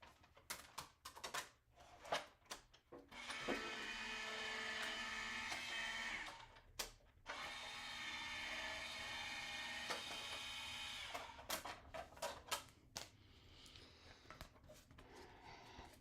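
A craft embossing machine cranks a card through with a steady grinding, rattling mechanical run lasting a few seconds at a time, broken by short pauses and scattered clicks and clunks, close and fairly quiet.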